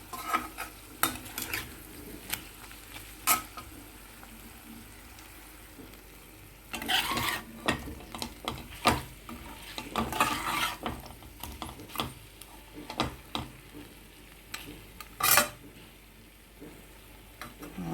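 Sliced onions frying in a pan for a chicken fry with milk, sizzling softly under repeated scrapes and clinks of a spatula stirring, with louder bursts of stirring in the middle.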